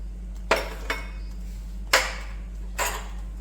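Masala spices for Jain chole being stirred in a pan, with four distinct metallic clinks of a spoon against the pan spaced irregularly over a low steady hum, no talking.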